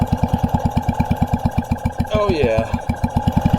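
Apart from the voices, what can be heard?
1970s moped flywheel spun over by hand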